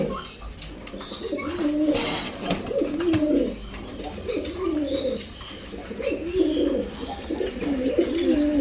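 Caged pigeons at a pigeon house coo continuously in soft, repeated, throaty phrases that rise and fall, close by, with faint background noise.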